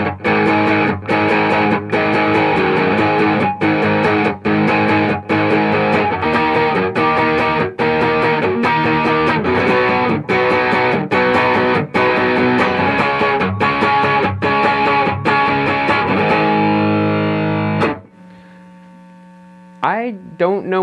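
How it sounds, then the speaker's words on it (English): Electric guitar played through a Tube Screamer distortion pedal, loud and saturated with sustained chords and steady strummed attacks, running continuously before cutting to near silence with a few faint clicks at the end. "All right, let's take a listen to the tube screamer now."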